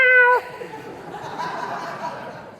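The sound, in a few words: person imitating a cat meowing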